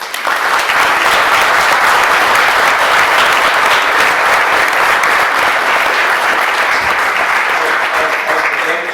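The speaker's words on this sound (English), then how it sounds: "Please give him a round of applause." A large audience applauds warmly at a mayoral reception at the Limerick City and County Council offices in Dooradoyle. The dense, steady clapping is loud and sustained for the whole stretch, with no talk over it.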